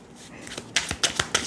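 Tarot cards are shuffled by hand close by: a soft rustle builds, then several crisp, sharp card snaps follow in quick succession.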